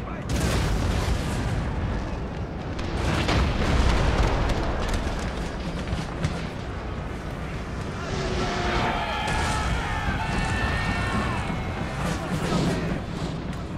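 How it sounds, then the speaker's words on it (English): Cannon artillery booms across a Napoleonic battlefield in Napoleon: Total War, loud repeated blasts layered with a continuous din of battle noise and distant chaos throughout. "Cannons fire on the horse and on the clustered infantry back there."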